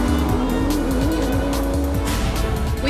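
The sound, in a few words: GT race cars speeding into turn one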